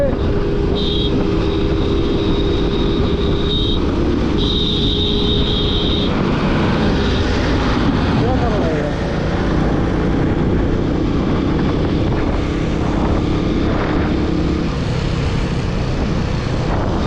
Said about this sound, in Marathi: ट्रॅक्टर चालवायला शिकवतोय